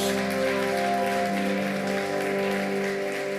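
A church congregation applauds in a broad, steady roar of clapping, backed by sustained organ or keyboard tones ringing underneath at a fairly loud level.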